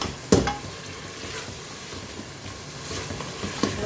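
Tomatoes and green chilies frying and being stirred in a pan, a sharp scrape near the start and a steady sizzle with intermittent stirring strokes throughout, close and moderately loud.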